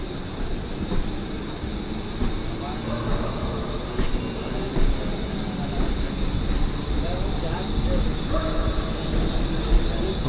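A Mumbai local train pulls out of CSMT with a steady, loud rumble of wheels and carriages, the rolling noise building gradually as it gets under way, with faint voices in the background.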